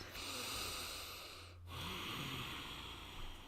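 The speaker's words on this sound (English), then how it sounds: "you seal the lips and breathe in and out through the nose with a bit of forcefulness" Ujjayi yogic breathing drawn in and out through the nose with sealed lips and a constricted throat, a steady close hissing breath with a brief pause between inhale and exhale.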